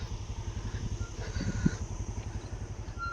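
A motorcycle engine runs at a steady, faint, low rumble with a rhythmic chug and light clatter, heard on a forested road without speech.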